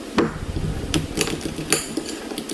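A spoon stirring a chocolate mixture in a pot for popovers, producing intermittent clinks and scrapes against the metal at an uneven rhythm, close and moderately loud, with no talking.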